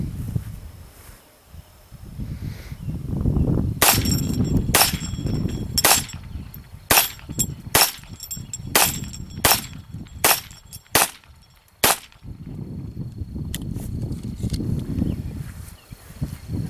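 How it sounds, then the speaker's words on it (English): Pistol shots from a Colt Woodsman 6-inch target .22 fired outdoors, about ten sharp, loud cracks in a steady string spaced roughly a second apart, with rustling and low background noise before and after. "Let's shoot it a few more times"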